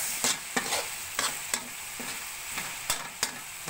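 Sprouts frying in a pan with Knorr seasoning, a steady loud sizzle broken by about ten quick scraping stirs of a utensil at an uneven, brisk rhythm.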